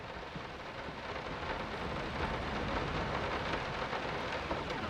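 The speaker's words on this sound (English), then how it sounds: "Yeah, I can still hear the rain." Rain and thunder inside the horror video game Layers of Fear, a constant wash of rainfall with a deep rolling rumble beneath, steady and moderately quiet, with no voices.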